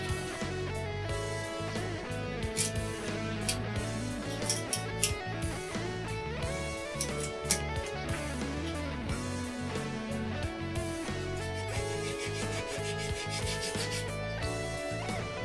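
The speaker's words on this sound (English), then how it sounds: "Now we're just going to carve this excess part off of here." Continuous close scraping and rubbing as excess wood is carved off guitar neck shims fitted to a neck pocket, a steady, moderately loud grind with no talk.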